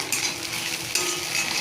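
Oil sizzling in a hot wok (kadai) as white cooking oil is poured in for chicken chowmein, a steady close hiss with a brief stronger flare near the middle, no voices.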